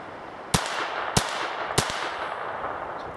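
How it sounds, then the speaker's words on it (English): A Ruger 22/45 Lite pistol fires three sharp, evenly spaced shots at a buried golf ball outdoors, each a crisp crack with a short decay. "trying to shoot a buried golf ball out there."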